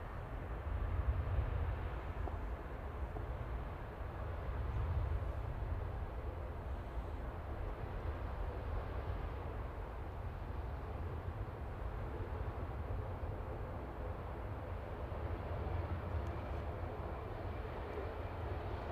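A TUI airliner arriving from Lanzarote roars steadily at Manchester Airport, a low broad engine rumble that swells slightly and holds for the whole stretch, distant and without talk.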